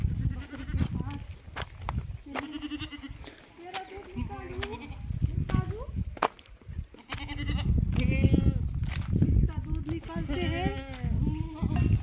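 Goats and sheep on a farm bleat repeatedly, several close calls rising and falling, while people talk throughout over shuffling and outdoor noise.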